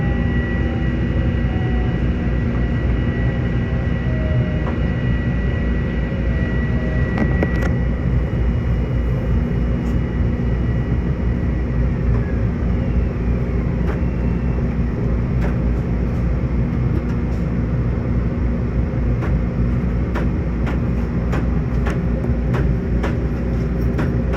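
A Long Island Rail Road commuter train runs steadily between Bethpage and Ronkonkoma on a rainy day, giving a constant loud rumble and hum with scattered sharp clicks and rattles, and no voices.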